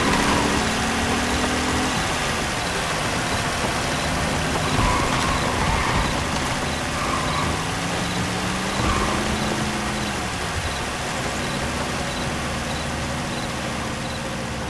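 A truck engine driving in the Truckful video game rumbles steadily throughout, a continuous low drone with slight rises in pitch as it revs, loud and close with no talk over it.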